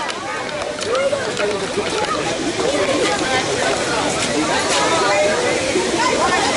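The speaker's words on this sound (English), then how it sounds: "To our right is a giant waterfall, picturesque setting of the park with a dinosaur." A giant waterfall at the Kings Dominion amusement park gives a steady, loud rushing roar through the whole stretch, with people talking over it.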